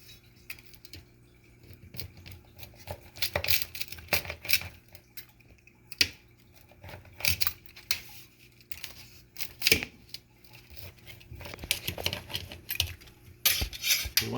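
A homemade thin crust or deep dish pizza is sliced, with close, irregular clicks, scrapes and knocks of a cutter or knife against a pan or board, coming in bursts and pauses with no talk.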